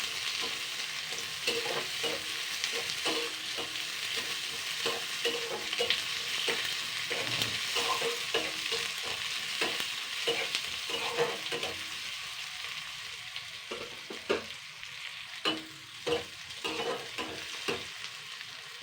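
Three large chopped onions with garlic fry in hot oil in a pan, giving a steady close sizzle with scraping and stirring clatter throughout and sharper spatula knocks toward the end.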